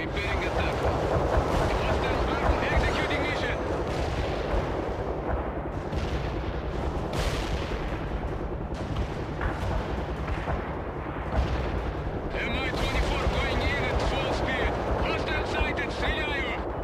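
Heavy gunfire and artillery rumble continuously through a World in Conflict battle, with dense bursts and booms filling the mix for the whole stretch while radio-style voices speak over the combat.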